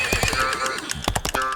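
A horse gives a loud, close whinny, a quavering neigh broken into several sharp bursts, with faint hoof clatter and no talking.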